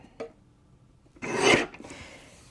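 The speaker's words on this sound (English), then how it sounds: "Now rotate so it's horizontal, this large piece, and trim it at 8 and 4." A paper trimmer slices across a large sheet of paper in one rasping pull lasting about half a second, close and clear, preceded by a small click.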